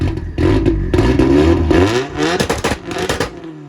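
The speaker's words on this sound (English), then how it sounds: "Give it a quick rev." A car engine fitted with an upgraded Bosch 200 external fuel pump running on E85 gets a quick rev, rising sharply in pitch then dropping back and settling, loud and close with no voices.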